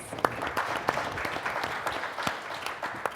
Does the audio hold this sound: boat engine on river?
no